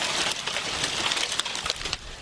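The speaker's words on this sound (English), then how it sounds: "This is hail coming down in Divide." Hail falls during a storm in Divide, a dense, steady patter of stones striking surfaces with occasional sharper individual hits, moderately faint and continuous with no voices.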